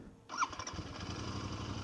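A Royal Enfield parallel-twin motorcycle engine cranks after a brief silence, then catches into a steady, low puttering idle that continues close by with no talking.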